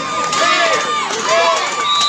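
Spectators at a Gayo men's volleyball semifinal between Prenges VC and Putra Kebet cheer and shout loudly and continuously, a dense crowd roar with higher voices of children rising through it.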